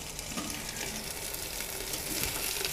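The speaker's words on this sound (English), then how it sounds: "It's sizzling mad in there." Food sizzles and fries in a hot pan on a stove, a steady, even hiss that holds through the clip with no talk over it. The cooking is part of a fishing trip.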